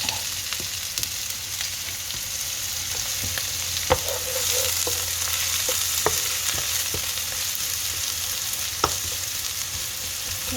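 Onions fry in oil for a potato bonda filling, a continuous, even sizzle up close, broken by occasional sharp taps of a spoon against the pan.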